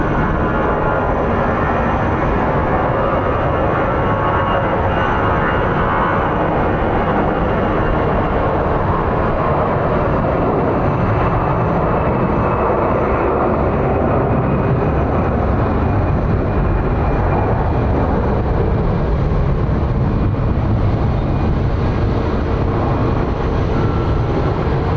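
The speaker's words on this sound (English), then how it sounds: "We have a smaller plane coming in." An aircraft at Phoenix Sky Harbor International Airport gives a loud, continuous engine roar and broad rushing noise that holds steady for the whole stretch, with no voices.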